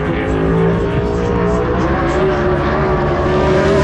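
Silver Crown race cars roar around a short oval track in a loud, continuous engine drone at full speed, with the pitch shifting slightly as the cars pass.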